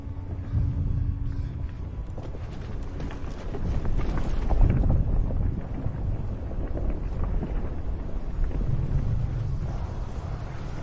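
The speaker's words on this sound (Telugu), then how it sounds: "ఇక్కడ గాలి 50 మైల్స్ పర్ అవర్ కి ఉంది." A strong wind of about 50 miles per hour roars steadily at a wildfire site, with loud rumbling buffeting against the microphone that swells in the middle and then holds throughout.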